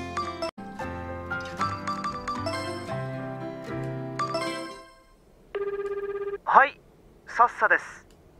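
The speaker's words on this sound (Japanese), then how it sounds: "あ、のぞむくん、今電話平気？" Phone ringing before voicemail picks up in the dating game Tokimeki Memorial Girl's Side 4. Melodic game music fades out, then a steady electronic ring tone sounds once, followed by short, bright chime-like tones.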